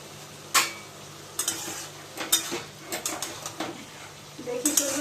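Ash gourd curry with a hilsa fish head bubbling in a covered pot, with scattered clinks of a lid and utensils and soft hissing in between.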